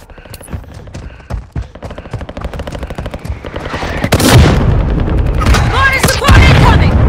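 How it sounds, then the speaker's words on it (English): Mortar strike explosions in the mobile shooter Warzone Mobile, starting with rapid gunfire and scattered shots, then heavy booming blasts rolling in loudly over the last few seconds. "Hostile mortar strike incoming."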